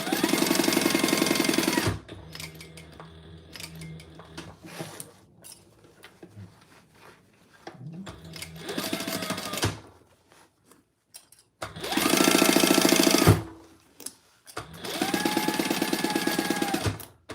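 A sewing machine stitches a crossbody bag in loud, fast whirring bursts of about two seconds each, separated by quieter pauses with handling noises and soft fabric shuffling.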